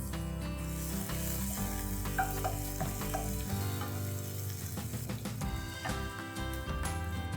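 Green garlic sizzling in hot oil for a vegetable korma, a loud continuous close fry with stirring clatter and scraping throughout, no voices.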